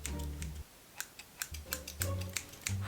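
Scissors snipping while being tested to see which cuts best: a quick run of sharp, crisp clicks in an irregular rhythm, close and fairly loud.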